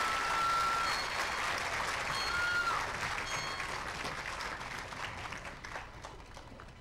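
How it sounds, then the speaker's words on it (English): A commencement audience applauds steadily, a dense wash of many hands clapping that fills the hall, holding fairly even before thinning slightly toward the end. "You can applaud now."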